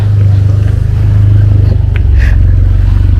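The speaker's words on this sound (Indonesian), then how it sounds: "Waduh, ada motor." A motorcycle engine rumbles loud and close in a very narrow village alley lined with graves, its low drone holding steady with a brief scrape and clatter near the end.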